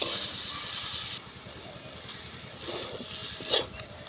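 A vegetable chop filling of mashed vegetables is stir-fried in a pan, giving a soft sizzling hiss that drops after a second, then quieter scraping and stirring swells near the end.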